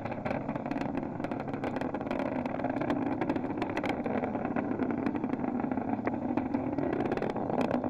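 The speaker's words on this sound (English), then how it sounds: "Engines now revving up" Space Shuttle Atlantis's main engines roar during its final launch, STS-135, as a steady, distant broadband rumble that holds at an even level throughout, with faint crackles and no voices.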